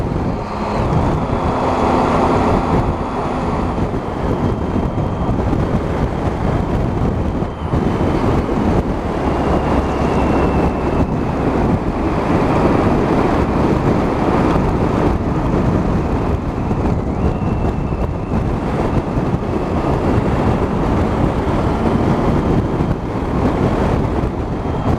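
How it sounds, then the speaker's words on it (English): Steady, loud wind roar buffeting the rider on a Triumph Tiger 1050 Sport motorcycle on a cold road ride, a continuous broadband rush mixed with engine drone and no speech. "It's great when you get behind the trees, get out of that wind."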